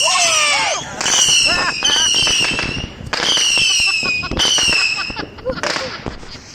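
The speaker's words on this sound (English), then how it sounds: "check out the fireworks behind the tree over there." Distant fireworks burst and crackle in several bright volleys with whistling, rising trails, while people talk nearby.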